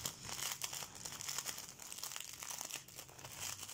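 A plastic zip bag holding small diamond-painting drills is handled and opened nearby, giving a quiet run of irregular crinkling and rustling crackles with no talking.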